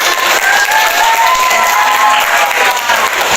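A group of students in a classroom teaching-practice lesson on Islamic creed and morals applauds the opposing group, with dense, steady clapping that fills the whole moment at close range and no talking.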